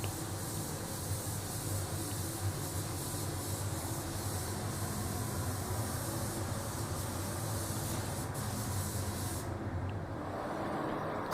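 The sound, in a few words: spray gun painting a car's first coat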